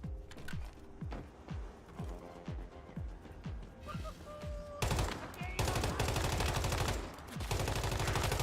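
Rapid assault rifle fire in the survival shooter Once Human, first as quick rhythmic single shots, then heavier sustained automatic bursts, close and punchy with game sounds around.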